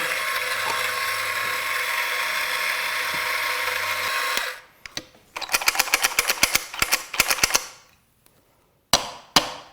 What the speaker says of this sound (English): Finer, grinder on.